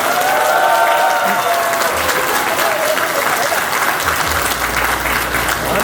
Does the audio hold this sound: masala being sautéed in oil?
no